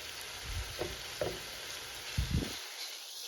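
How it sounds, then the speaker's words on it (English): Beef sizzles faintly in a pan under a steady hiss, with a few soft knocks and scrapes as it is stirred. "I'm putting my meat in the pan, and I'm going to stir it"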